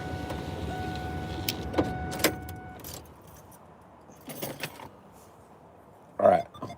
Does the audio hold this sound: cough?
no